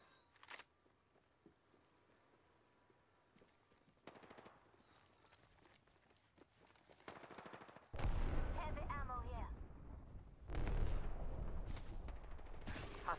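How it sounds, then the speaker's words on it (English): Automatic gunfire in the Apex Legends battle royale game: faint scattered shots at first, then loud sustained bursts of rapid fire from about eight seconds on, with mechanical clicks and clatter between the volleys. "Shots fired, and they're hitting me."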